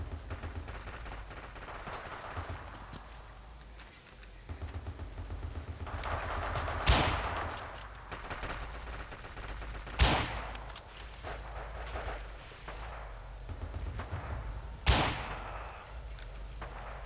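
Rifle gunfire in a video game, three sharp isolated shots several seconds apart over a dense, noisy battle background.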